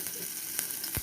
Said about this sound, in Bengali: আমি সর্ষের তেল দিয়ে শুকনো লঙ্কা দিয়ে দিয়েছি, একটু আদা থেতো করে দিয়ে দিয়েছি